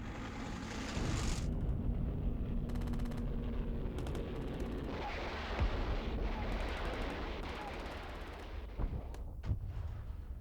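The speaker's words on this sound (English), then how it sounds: "he sent his M26 Pershing tanks into battle, firing 90mm high-explosive shells and armor-piercing rounds." M26 Pershing tanks firing 90mm high-explosive and armor-piercing shells in a Korean War battle, a loud continuous roar of booming blasts and rumbling with sharp crackling bursts through the middle and end.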